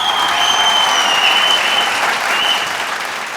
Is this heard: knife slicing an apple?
no